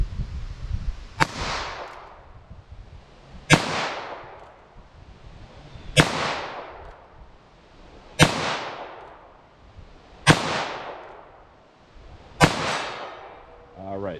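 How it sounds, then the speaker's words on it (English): Six sharp gunshots from a short-barrel .22 Magnum revolver fired offhand at a target, spaced roughly two seconds apart, each a loud crack with a trailing echo, no talk between shots. "22 Magnum. Let's see if I can hit with this."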